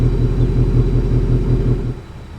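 Deep, steady V8 burble from a 2019 Ford Mustang GT idling close by, a loud rhythmic low rumble that drops away near the end.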